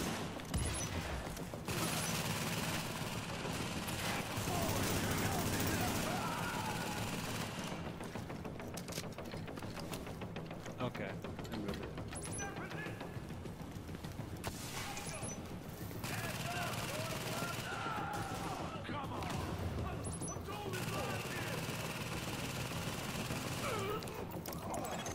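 Automated turret gunfire in The Division, steady bursts of shots rattling on and off over a long stretch of combat, mixed with in-game voices and radio chatter.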